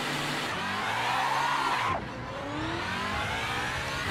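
Race car engine in the Assetto Corsa racing game on the Portimão circuit in Portugal, a loud continuous drone with revs climbing, a sharp drop as if shifting gear midway, then steady high revving again; no talking.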